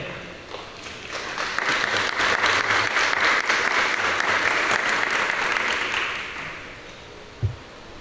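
A church congregation breaks into applause after a Bible reading, a broad steady clapping that swells, holds for several seconds, then fades away, with a single knock near the end.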